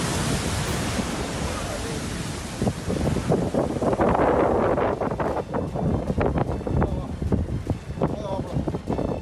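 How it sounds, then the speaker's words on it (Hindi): Cyclone Nivar's strong wind on the Tamil Nadu and Puducherry coast roars continuously, with heavy gusts buffeting the microphone and a surf-like rush throughout. "तो निवार तूफान आज पुदुचेरी और तमिलनाडु पर आफत लेकर आया है, समुद्र तट से टकराएगा।"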